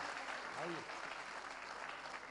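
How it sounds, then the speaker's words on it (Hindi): An audience at a Punjab mushaira in Patiala claps in a brief, dense burst of applause, with a voice audible over the clapping. "तालियां बजाइए फिर, और ताली बजाने से वर्जिश भी होती है।"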